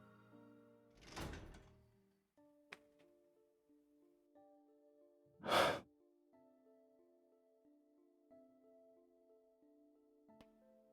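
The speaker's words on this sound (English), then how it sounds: "I push open the door." In the video game Love & Deepspace, a door is pushed open with soft whooshing thuds against quiet sustained background music, followed by a couple of faint knocks.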